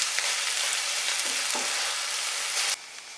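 Oyster mushrooms sizzling steadily in a frying pan as they are stirred, a close, even hiss with a few soft scrapes, then the frying drops to a quieter level near the end.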